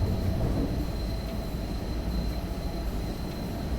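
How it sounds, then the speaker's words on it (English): Wheels of a DB BR101 electric locomotive spin and squeal in the Train Sim World 2 video game over a loud, constant rail rumble and motor drone, heard alone without talk. "This train does have a tendency to wheel spin, even at a decent rate of knots."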